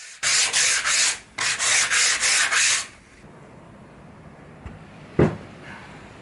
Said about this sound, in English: So start sanding.